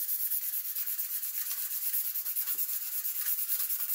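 Coarse sandpaper rubbed by hand over the back of an aluminium Z bar, in quick, even back-and-forth strokes that are close, steady and unaccompanied.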